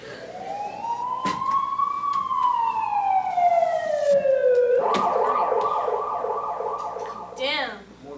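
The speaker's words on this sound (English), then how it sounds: "it's an ambulance. Two of them." An ambulance siren sweeps slowly up and down in a long wail, then switches to a fast warbling yelp, loud and nearby with traffic rumble underneath.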